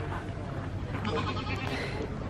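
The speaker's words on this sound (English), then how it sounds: "So this is where the goats live." Goats bleating in their pen at Howells Farm, several overlapping calls heard close by over steady outdoor background noise.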